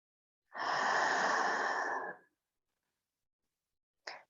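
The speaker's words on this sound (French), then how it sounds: "On va expirer par la bouche." A single long exhale through the mouth during a slow yin yoga stretch, a breathy, close whoosh lasting under two seconds, followed by silence and a brief faint breath at the end.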